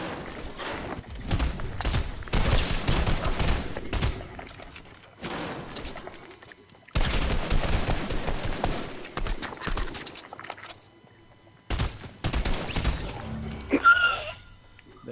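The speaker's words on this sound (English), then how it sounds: "Somebody else is shooting." Gunfire in the video game Fortnite comes in bursts of rapid shots separated by short quiet gaps, at a moderate level, with no talk over the shooting.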